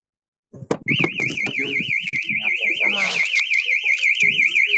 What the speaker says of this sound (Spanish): Saltó una alarma.